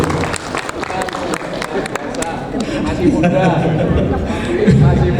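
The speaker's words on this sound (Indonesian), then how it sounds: "Tepuk tangan untuk Pak Agung." A district planning meeting audience in Surakarta claps for a speaker, moderate applause mixed with chatter and talking voices throughout.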